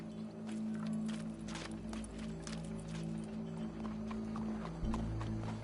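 Horse hooves clip-clop in an uneven trotting rhythm over a low droning background in Red Dead Redemption 2, moderately loud and close.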